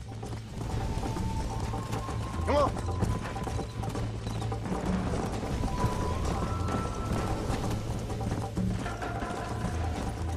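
Hooves pound in a rhythmic gallop during a horse race in Red Dead Redemption 2, steady under game music and ambience, with a short spoken call from a rider.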